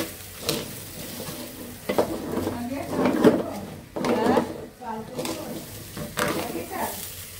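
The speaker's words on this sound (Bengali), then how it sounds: "একটু ভালো করে চাউলটা ভেজে নিলে ভালো হয়" Rice frying in ghee in a pot with meat, a steady sizzle with stirring scrapes beneath a person talking close by.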